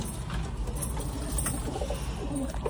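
A fancy pigeon gives a low, steady coo close by, set against a constant background hiss with no voices.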